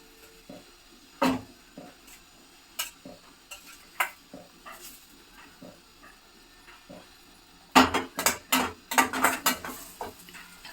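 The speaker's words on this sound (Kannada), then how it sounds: "ಈರುಳ್ಳಿ ಹಾಕಿದ್ದೀನಿ, ಸೊಪ್ಪು ಹಾಕಿ ಮಿಕ್ಸ್ ಮಾಡ್ಕೊತೀನಿ." Drumstick leaves and onion tossed together in a pan for a village-style palya, giving scattered light ticks and scrapes, then a quick cluster of louder clanks and stirring knocks near the end; no talk.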